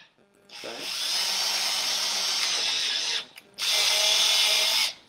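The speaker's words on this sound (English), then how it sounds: "I'm going to take the drill and I'm just going to drill through" A power drill bores through a bamboo bicycle frame to fit a bottle rack, whining steadily for a few seconds, pausing briefly, then running again, close and loud.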